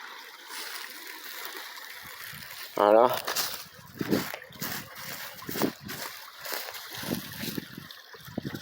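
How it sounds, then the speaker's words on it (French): A small stream trickles through a spring forest, a soft continuous burble of water that sits under someone speaking French close by, with a few brief sharper splashes. "avec des petits ruisseaux comme ça, qui cavalent à travers la forêt"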